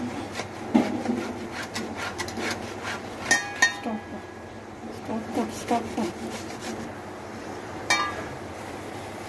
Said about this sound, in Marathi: पहिला आपण बटाटा किसून घेऊया।